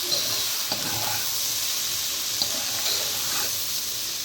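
Ivy gourd curry fries in a pan on a low flame as it is stirred, giving a steady sizzling hiss with faint scraping strokes of the spoon and no talking.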